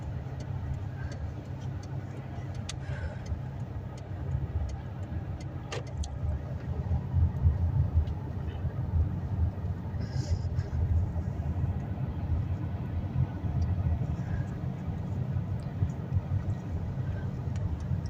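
Traffic rumbles at a roundabout as a low, steady engine drone of passing cars with a few faint ticks and knocks, moderately distant and continuous.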